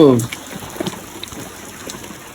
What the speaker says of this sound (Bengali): এখানে বৃষ্টি ঝরেই যাচ্ছে ঝরেই যাচ্ছে বৃষ্টি কি অবস্থা গো